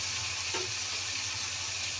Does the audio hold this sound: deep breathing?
no